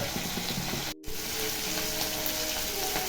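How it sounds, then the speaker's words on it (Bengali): Shrimp frying in a pan gives off a steady, close sizzle, with a brief dropout near the start before the hiss returns at the same level. "চিংড়ি মাছটা ভাজা হোক।"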